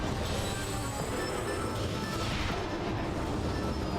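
Explosion in the video game Metroid Prime, a dense, loud crashing blast with rumbling debris filling the whole moment, steady and sustained rather than a single sharp hit.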